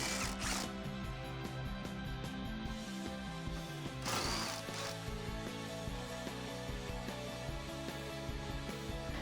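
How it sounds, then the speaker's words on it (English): A ratchet with an 8 mm socket loosens bolts on a 2017–2019 Super Duty 6.7L Powerstroke engine bay. Faint, quick clicking bursts repeat in short runs, close and quiet, with no talking. "grab an 8 millimeter socket and you may want an extension and get these removed"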